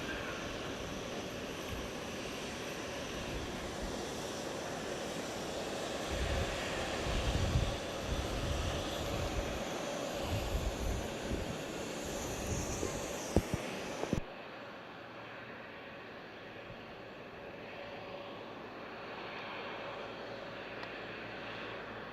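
A Starlux Airbus A330-900neo jet at Fukuoka International Airport produces a faint, steady engine rumble that grows a little with a few sharp knocks, then drops abruptly to a quieter hush near the end.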